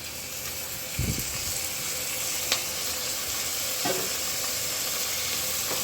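Steady sizzling of tomato frying in a pan for vegetable biryani, with a couple of soft stirring scrapes partway through; continuous and fairly close.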